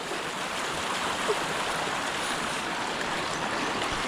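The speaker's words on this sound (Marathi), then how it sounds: "हा रस्ता जो आहे तो पूर्णपणे धबधब्यामध्ये परिवर्तित झाला आहे" Rainwater rushes down a road turned into a waterfall after three or four days of monsoon rain, a loud, steady, broadband roar that fills the whole clip without pause.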